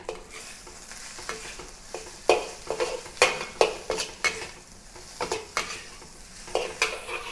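Salted egg fried rice being stir-fried in a pan with salted egg, egg whites and fish cake, a steady sizzle broken by repeated sharp scrapes and clanks of the spatula against the pan, fairly close with no talking.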